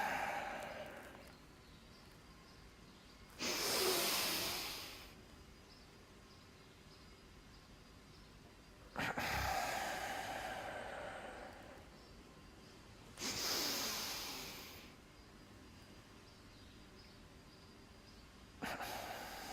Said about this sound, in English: double breathing with tension